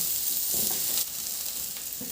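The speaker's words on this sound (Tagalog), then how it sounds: "Sa disim na kawali, ginamit ko na rin yung mantika na tira sa talong. Igisa ko na rin yung bawang." Garlic sautéing in oil left over from frying eggplant in a pan, a brief close sizzle with a soft stir midway, quiet and alone.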